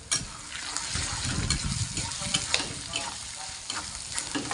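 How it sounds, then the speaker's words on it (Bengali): Ground turmeric, cumin, coriander and chili powder stirred as they fry in a pan for pasta: a steady close sizzle with scraping spoon strokes and no talk. "এবার একটু কিছুক্ষণ নেড়ে নেব।"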